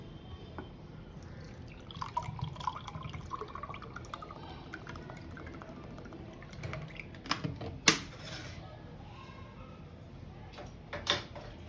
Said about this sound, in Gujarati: અને એકદમ ઠંડુ આપણે પાણી એડ કરવાનું છે.